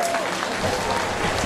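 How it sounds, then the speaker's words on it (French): Audience applause at a YouTubers' night show, a short burst of steady crowd clapping with voices murmuring underneath. "On peut l'applaudir."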